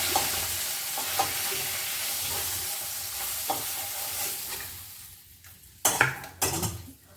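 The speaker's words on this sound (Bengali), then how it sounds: "এবার এই পেটটা একটু হালকা ভাজা করবো" Continuous sizzling of small fish lightly frying in a pan with little oil, with a few scrapes and clinks of a utensil stirring near the end.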